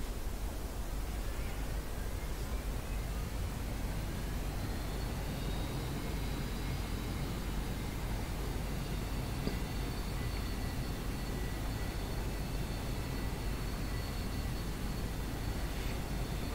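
Aircraft engines spool up to full thrust, a constant loud broadband roar with a whine climbing in pitch and then holding steady.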